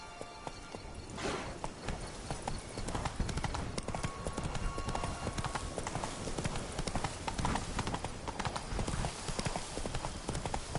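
Roach the horse gallops in The Witcher 3, with rapid, loud, continuous hoofbeats in a steady rhythm under a dense wash of game ambience and no pauses.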